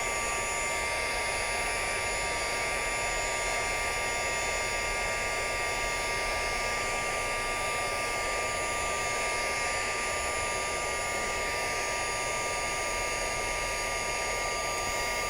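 A heat tool set on high blows steadily to dry ink on a handmade card, a constant close whooshing roar with a high whine that holds unchanged throughout.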